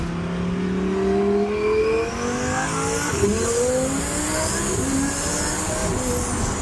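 A twin-turbocharged Lamborghini engine hums steadily from inside the car on a test drive, pitch rising and falling with gear changes, with road noise throughout.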